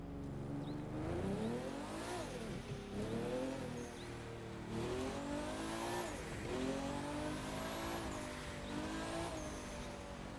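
A Nissan Skyline R34 in The Crew 2 drives along an open road. Its engine revs and drops through gear changes in loud, continuous sweeps, with no talking.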